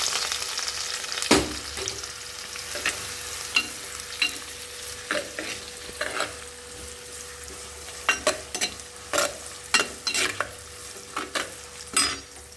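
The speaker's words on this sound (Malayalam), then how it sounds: "അതിനുശേഷം അരിഞ്ഞ് വെച്ചിട്ടുള്ള സവാള ഇതിലേക്ക് ഇട്ട് കൊടുക്കാം." Chopped onions and dried red chillies frying in a pan, a soft continuous sizzle broken by repeated sharp stirring scrapes and clinks, fairly quiet and close.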